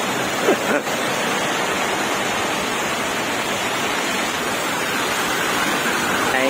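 Rainwater pours steadily from a pipe during a downpour, a dense, continuous rushing hiss of flowing water that holds even throughout, close and fairly loud.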